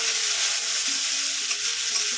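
Onion and tomato paste sizzles steadily in a hot pan, a close, continuous bright frying hiss with light stirring scrapes, no voices.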